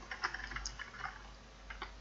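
Fingers tap out code on a computer keyboard, a quick, irregular run of soft, close key clicks over two seconds, fairly quiet and with no speech.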